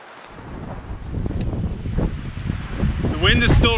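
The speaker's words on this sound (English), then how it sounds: "The wind is still raging, so I won't be getting back in the canoe anytime soon" Strong wind gusting at a lakeside hammock camp during a storm, a loud roaring rush buffeting the microphone with rising intensity, and a voice speaking beneath it.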